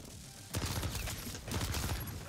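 Rapid bursts of automatic gunfire from an overpowered weapon set to a high fire rate in MW3 Zombies, loud and close, with two sustained volleys separated by a brief pause.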